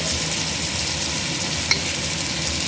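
Ginger garlic paste fries in hot oil in a pan for Andhra-style chilli chicken, a continuous, even sizzle close up with one small click partway through.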